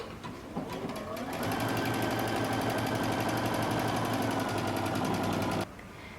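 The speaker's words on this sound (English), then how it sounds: "refer to your instruction manual that came with your sewing machine on how to make a buttonhole" A sewing machine runs steadily and loudly close by, stitching a buttonhole on a DIY cape, with a rapid even mechanical whir after a brief start-up. It stops abruptly near the end, leaving only faint background.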